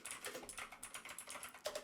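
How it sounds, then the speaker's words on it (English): Quick computer keyboard typing with added reverb, a steady run of close, crisp key clacks with a slightly louder stroke near the end, no voices. "Keyboard ASMR with reverb this time."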